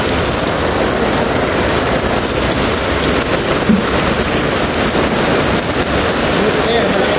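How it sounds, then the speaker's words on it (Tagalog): Rain pours down suddenly at an outdoor street vendor's spot, a dense, steady hiss of drops hitting surfaces that fills the whole scene. "Biglang ulan guys."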